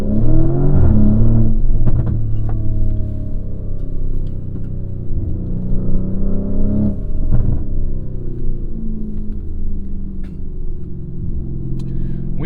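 Lamborghini Urus SE engine droning steadily under load while driving along Mulholland, a loud close rumble with a strong burst at the start and gentle rises and dips in pitch throughout.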